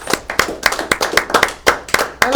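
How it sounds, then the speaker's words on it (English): Audience applause at a local evening talk show, with clustered claps bursting roughly every quarter second, close and fairly loud, no speech over it. "A round of applause."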